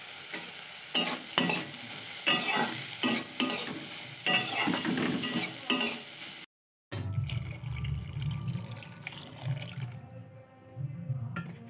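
Ginger paste and turmeric powder frying in a pan for pea ghugni, with loud rhythmic stirring scrapes over a constant sizzle, a brief silent gap, then a softer, lower sizzle continuing.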